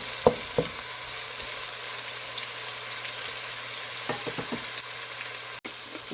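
Onions frying in a pan for Jaffna-style spicy mussels, a quiet, steady sizzle with a few soft stirring taps, close and fairly low in level.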